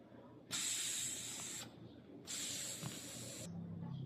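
Air hisses from a leaking male fitting with a worn O-ring, two strong close bursts of about a second each separated by a short pause.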